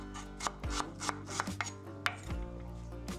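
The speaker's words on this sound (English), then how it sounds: "Then slice the onion crosswise, turn the onion, and continue dicing into cubes." A knife dices an onion into cubes on a cutting board in quick, close, rhythmic chops, some sharp and some softer, with no voices.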